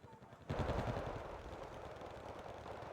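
An automatic gun opens fire in a video game, a sustained rapid burst that starts abruptly after a short quiet moment and rattles on without pause, loud and dense.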